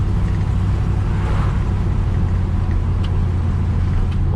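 A 1968 Ford F100 pickup truck driving, with a steady low engine rumble and road noise heard from inside the cab, continuous and fairly loud throughout.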